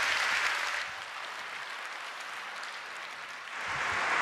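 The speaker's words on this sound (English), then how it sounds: "Please give Bernie Hobbs a big round of applause." An audience applauds at the 2025 Eureka Prizes awards ceremony, a clapping burst that eases to a softer patter before swelling again, heard from within the hall.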